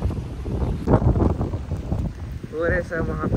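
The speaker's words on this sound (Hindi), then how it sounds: "यहाँ तो तेज पानी गिर रहा है" Heavy water pours down like rain in Puri, a steady broad rushing wash that runs throughout while people talk over it nearby.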